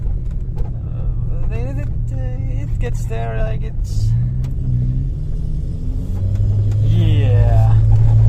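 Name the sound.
Renault Scenic 1 car driving with loud exhaust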